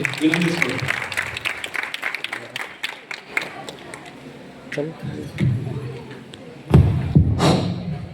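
An audience at a public program in Ambedkar Bhavan, Haveri, applauding to welcome a student speaker. A dense patter of many hands clapping fills the hall and then thins out, followed by voices and a loud thump near the microphone.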